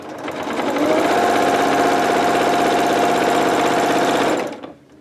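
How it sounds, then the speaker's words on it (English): A sewing machine stitches through a quilt in one continuous run, a loud, fast mechanical whirr that ramps up, holds steady for several seconds, then winds down to a stop. "now I'm just going to pull them to the back, and then I'll start sewing from that point there"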